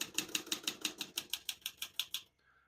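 Typing on a 1971 Olivetti Lettera 32 portable typewriter: about a dozen crisp key strikes land in a brisk, even rhythm, close and clear, then stop.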